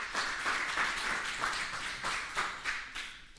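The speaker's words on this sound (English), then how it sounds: "So please, a warm applause for María-Inés." An audience gives warm applause to welcome a speaker at an evening talk, a dense continuous patter of many hands clapping at moderate distance, with no voices over it.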